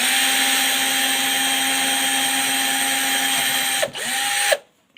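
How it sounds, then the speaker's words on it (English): Power drill whines steadily while boring into thick plastic on an old fairground bingo shutter board, dipping briefly as it bites, then winding down and stopping. "I'm just going to drill into the thickest part of the plastic"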